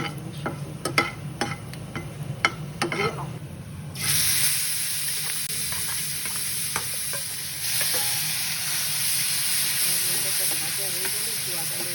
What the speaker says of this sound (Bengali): দুটো তেজপাতা দিলাম, দুটো গরম মশলা দিয়েছি, এখানে ভেজে আর পেঁয়াজ বাটা দেবো এর সাথে।